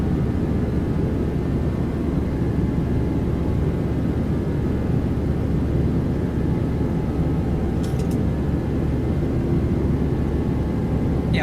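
Boeing 737-800 jet engines roar during takeoff in a flight simulator. The rumble is dense, steady and low, filling the whole stretch at constant loudness with no voices over it.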